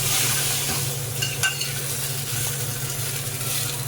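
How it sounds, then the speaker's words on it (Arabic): Molokhia hits hot fried garlic in a pan and sizzles loudly and continuously up close, with a brief stirring clatter partway through before the sound cuts off. "اسمعوا بقى الصوت الجميل بقى، اسمعوا بقى. هننزل فيها الملوخية"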